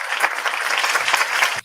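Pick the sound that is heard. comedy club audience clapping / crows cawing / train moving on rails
comedy club audience clapping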